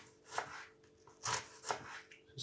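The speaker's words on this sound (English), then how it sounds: "Slice all the onion like this." Onion sliced with a knife on a chopping board, four crisp cuts landing at an uneven pace, each one a close, bright crunch and knock, with quiet pauses between and no talking.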